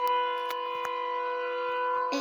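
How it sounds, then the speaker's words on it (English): A video game's Siren Head warning siren drones as a steady, layered wail throughout, with faint clicks and shuffling underneath. "Is that a warning siren?"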